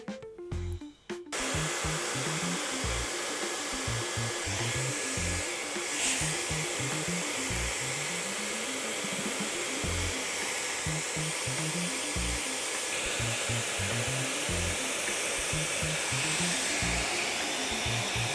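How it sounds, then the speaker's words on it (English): A handheld hair dryer used for a salon-style blow dry blows with a loud, steady whooshing drone that runs continuously after a brief quiet start, close by. "then I can just bring it all up with my hairdryer"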